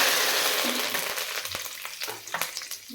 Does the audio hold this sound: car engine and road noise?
no